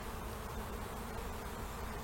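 Honey bees in an overwintered hive make a dense, continuous buzzing hum, close and even throughout with no talk.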